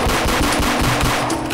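Rapid automatic gunfire in a Roblox hood shooter game, a loud, steady run of closely spaced shots repeating through the whole burst with no voices over it.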